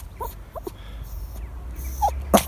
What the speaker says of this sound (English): What doggy did you see?